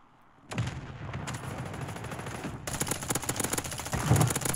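Rapid automatic-rifle gunfire in the battle royale game Warzone, with dense close bursts of shots starting abruptly and intensifying into a heavier rattling volley, loud and continuous with no talk.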